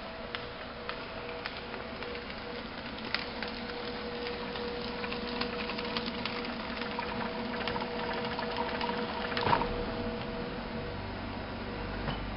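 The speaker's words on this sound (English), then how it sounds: "The labeler is mounted on a stainless steel portable base with casters and has an approximate 10-foot long conveyor." A Quadrel Moduline front and back automatic labeler, built in 2012, runs on a stainless steel portable base with a conveyor and stabilizing belt. It gives a steady mechanical whir with faint rhythmic clicks and a brief louder clatter near the end.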